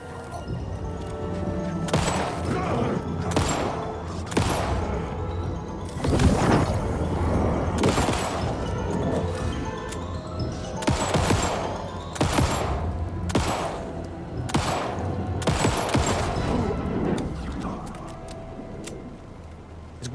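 Repeated gunshots from a weak-feeling gun in Alan Wake II's Night Springs DLC, loud bursts spaced irregularly across a long stretch of noisy combat with crashes and booms in between.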